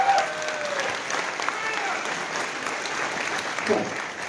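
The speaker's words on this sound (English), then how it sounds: "Give us a clap for that." An audience at a political meeting in Christchurch claps continuously at an even level, with faint crowd murmur and a few voices mixed into the applause.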